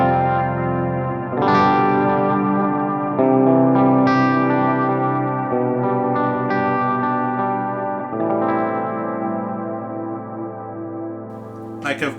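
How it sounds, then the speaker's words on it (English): An electric guitar played through a pedalboard with plate reverb and distortion, sustained chords and notes ringing out with a lush reverberant tail and chorus shimmer, loud and alone. "So if I turn the plate reverb on, same exact settings of everything, and just play that same thing"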